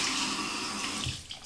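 Tap water runs into a bathroom sink as a soft steady splash that fades and thins toward the end, fairly quiet and close.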